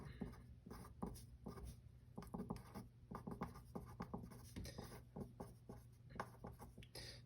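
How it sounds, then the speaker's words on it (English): Pen writing equation notes on paper, a quick run of close, soft scratching strokes in irregular bursts, faint and continuous throughout. "for note-taking purposes, I will write it out"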